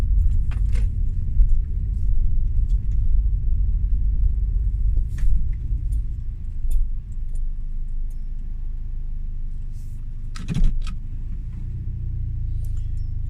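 A car on a morning commute drives through traffic, its steady low engine and road rumble continuous throughout, with light jangling of keys and occasional small knocks and rattles inside.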